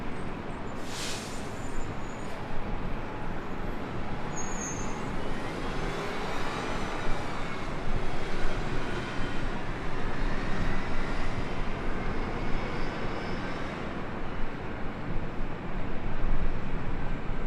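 A Super Airbus jet at LAX rolls down the runway with a steady, broad engine roar that swells gradually and holds loud throughout, with no voices present.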